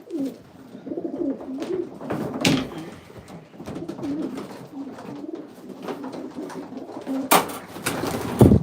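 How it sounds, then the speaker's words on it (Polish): Homing pigeons cooing close by in soft, throaty bursts, with several rustling flutters and a sharp clatter of wings near the end. "Tu jest kolejny gołąbek."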